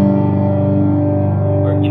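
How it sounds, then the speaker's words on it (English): A guitar on a clean patch drenched in heavy reverb, sustained chords ringing with a long smeared tail that fills the whole stretch at steady loudness, no break in the wash. "That's just dripping in reverb."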